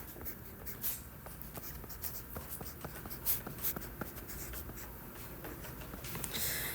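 A pen scratches out short handwritten strokes on paper while working a trigonometry problem, quiet, close and steady for several seconds with brief pauses between marks.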